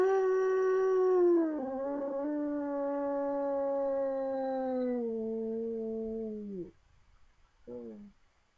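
A person imitates a dog or wolf howl, one long, loud, close wavering note that slides down and fades, then a short second howl after a brief gap.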